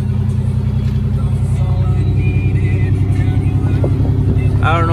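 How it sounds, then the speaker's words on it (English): A truck engine without catalytic converters runs loud through its muffler, holding a deep, rumbling, steady drone close by for the whole clip, with someone talking over it. "She's a little bit loud on the muffler."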